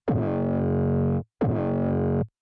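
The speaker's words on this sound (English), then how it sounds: "And then the mids, we're distorting a lot." Heavily distorted midrange band of an 808 bass sounds as two loud gritty sustained notes with buzzing harmonics, each with a sharp attack and cut off abruptly.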